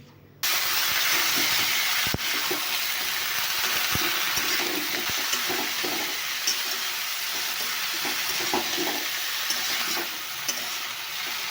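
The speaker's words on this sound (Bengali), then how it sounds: "ফুলকপি আলু সিমগুলো তো এখন ভাজা করে নিচ্ছি" Cauliflower, potatoes and beans fry in a pan after cumin, onion, chilli, turmeric and salt, giving a steady loud sizzle with scattered scrapes and stirring knocks, no voices.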